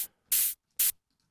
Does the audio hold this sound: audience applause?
no